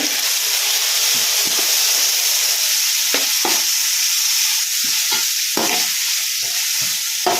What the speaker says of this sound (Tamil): தக்காளியும் நல்லா வதங்கி மசிஞ்சு வரணும். அது வரைக்கும் நல்லா வதக்கணும்.